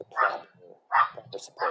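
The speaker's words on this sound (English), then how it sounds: "Sorry about my dog." A dog barks three times in short, evenly spaced bursts nearby, its yips cutting across a person speaking in an indoor interview setting.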